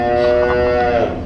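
A cow in a barn lets out one loud, sustained low moo up close, lasting just over a second.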